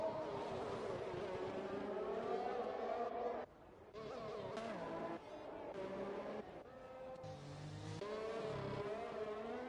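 A McLaren Formula 1 car in the F1 2021 game runs a fast lap at the Azerbaijan circuit, its high engine note climbing and dropping through upshifts and braking, heard under a commentator's voice.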